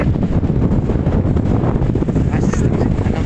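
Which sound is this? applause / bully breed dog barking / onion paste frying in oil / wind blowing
wind blowing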